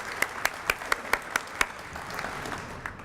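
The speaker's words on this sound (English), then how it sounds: "give him a round of applause" Applause at a school academies steering committee meeting: about seven distinct, evenly spaced claps, fairly close and moderate in volume, then thinning into quieter scattered clapping.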